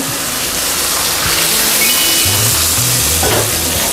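Soy sauce and water hit melted butter in a hot pan, producing a loud, continuous sizzle and bubbling hiss that stays steady throughout, with a faint low hum underneath.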